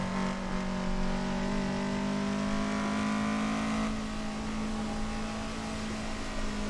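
A Toyota AE86 runs a mountain touge road, its engine droning steadily close up with a strong low hum and layered harmonics, holding a fairly constant pitch with a slight shift midway.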